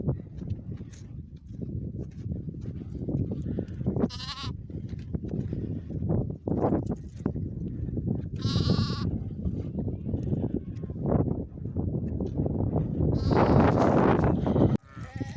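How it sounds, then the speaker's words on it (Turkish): A lamb bleats several times, high and wavering, with short calls scattered over a steady outdoor rumble. "Annesine kavuştu kuzu."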